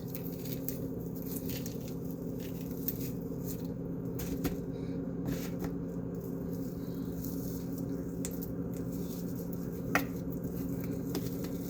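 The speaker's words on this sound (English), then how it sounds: "I'm just pulling it apart to make the defrosting" Partially frozen pork chops being pulled apart by hand, giving a steady close, soft squishing and patter of meat with faint crackles, continuous and quiet with no talk.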